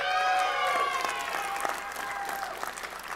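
Loud applause from a large convention keynote audience with cheers and whistles, swelling at first and then slowly thinning out.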